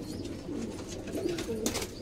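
Pigeons coo softly in a breeding loft among a fancier's paired birds, a low steady murmur of cooing with light background noise and a brief higher chirp near the end.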